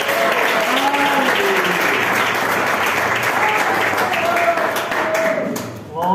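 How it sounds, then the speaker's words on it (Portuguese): Church congregation applauding to welcome presbyter Antônio at a doctrine service, a steady dense roar of clapping lasting throughout, with voices murmuring and calling out beneath it. "Vamos receber o nosso irmão presbítero Antônio com palmas que exaltam o Senhor"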